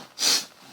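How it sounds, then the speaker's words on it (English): A single short sneeze, close and fairly loud, bursts out in under half a second and then fades to quiet room tone, with no talking. "I need to sneeze."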